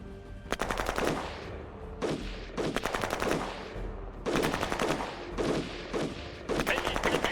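Rapid automatic gunfire from the strategy game Shadow Empire rattles out in several loud, sustained bursts separated by brief gaps.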